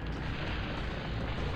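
Tank cannon fire in the PS1 game Mobile Armor, a dense, loud boom that fills the short moment and rolls on as a steady, blasting rumble with no voices over it.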